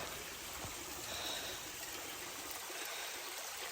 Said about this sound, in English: A little seat next to the creek.